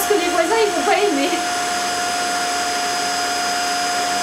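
Tineco Floor One S3 wet-dry vacuum mop running with a steady, loud whirring motor drone and a constant high whine, close by, with a brief voice near the start.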